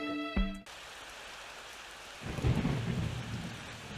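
A thunderstorm in a Plants vs. Zombies game level: a short tonal game sound cut off, then steady rain hiss with a low, rumbling roll of thunder swelling in partway through, heard alone.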